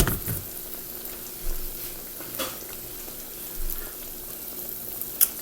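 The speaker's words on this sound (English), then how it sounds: "just let your eggplant fry like that a little bit on both sides" Eggplant slices frying in a hot pan, a continuous close hiss of sizzling oil with a few brief louder spits and pops, no voices over it.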